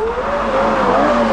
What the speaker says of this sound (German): der V10 Mittelmotor bei 8000 Umdrehungen unter lautem Geschrei seine 612 PS an die Hinterachse schickt